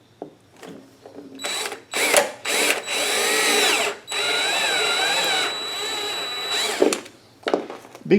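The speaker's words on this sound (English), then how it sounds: "Be careful when you're drilling this hole, if you're using a step drill like I do" A power drill with a step drill bit whines steadily as it bores a hole in a fuel tank, in several bursts with short pauses, the longest run lasting a few seconds, close and loud.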